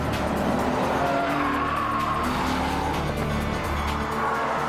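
A 2004 Aston Martin DB9 drives hard, its engine a loud, continuous roar mixed with squealing tyres. The sound is close and sustained, with no voices.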